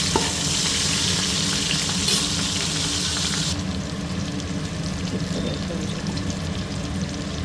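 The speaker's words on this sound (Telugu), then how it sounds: "ఆనియన్స్ బాగా ఫ్రై అవ్వాలి. ఇంకా ప్రాన్స్ వేసేసాను." Onions and prawns for biryani fry in hot oil with a loud, close, continuous sizzle; a brighter hiss dominates the first half, then settles into a fuller, steadier crackle.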